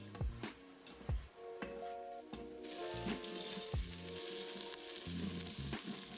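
Food sautés and sizzles steadily in an Instant Pot while a utensil stirs and scrapes at intervals, close and fairly quiet, with no talking.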